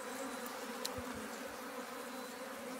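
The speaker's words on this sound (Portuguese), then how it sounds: "tá aí a abelha do pé de juá falada, a gente chegou nela, ó, muito braba, mordendo muito" Aggressive, biting abelha do pé de juá bees give off a continuous soft buzz, faint and even throughout, with no voices.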